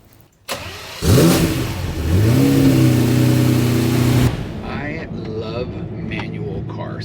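An early-2000s V12 supercar with a manual gated shifter fires up with a loud crank and catch, then climbs into a sustained high rev before cutting back to a lower idle, with faint talk afterward.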